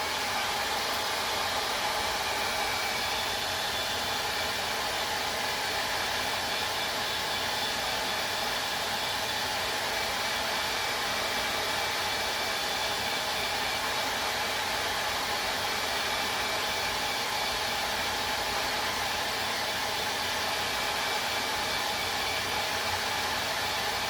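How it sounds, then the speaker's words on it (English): A hair dryer blows steadily close by while drying a paintbrush for DIY Christmas ornament painting, a loud constant airy whoosh that runs unbroken from start to finish with no speech. "I'm going to take my dryer and I'm going to dry this real quick."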